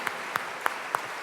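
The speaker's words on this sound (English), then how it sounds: "please give a very warm welcome today to the governor of the great state of California, Governor Jerry Brown." Applause from the audience at a 2012 Tesla Model S delivery event, a steady wash of clapping with a few sharper claps standing out, and faint voices behind it.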